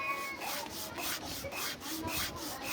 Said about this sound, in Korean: 흙과 끌로 대강의 모양을 만들고 윤이 날 때까지 사포로 문질러 조각을